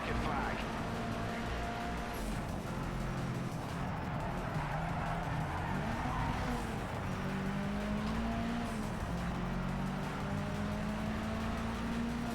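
Racing cars with engines droning and tires squealing in Project CARS 3, a steady dense roar of several cars close together, with rising and falling engine pitch throughout.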